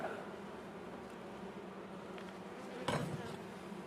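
Black honeybees hum softly around brood frames as a beekeeper inspects a hive, a faint continuous buzz with a sharp clack of wood or metal near the end.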